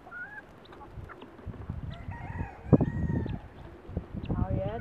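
Chickens and ducks cluck and call near and far in a yard, with a voice talking through the clip and scattered squawks rising above the yard noise.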